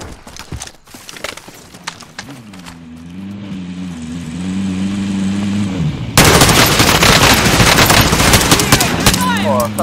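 Call of Duty Warzone gunfire: sharp scattered shots early on, then a steady engine drone, then a loud, dense burst of rapid automatic fire in the closing seconds.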